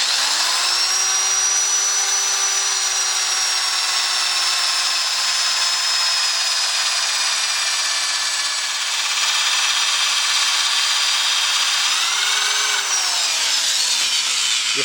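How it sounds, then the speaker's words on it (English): A spinning wire brush on a power tool scours the natural edge of a piece of wood, a loud, continuous high whirring scrape with a steady whine that dips in pitch slightly near the end. "the wire brush will clean it all out, get rid of any gunk"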